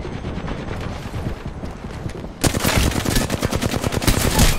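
Rapid automatic gunfire from several weapons in the Apex Legends video game during a tournament match, a dense burst of shots that starts softer and becomes loud and close about halfway through, with no talk.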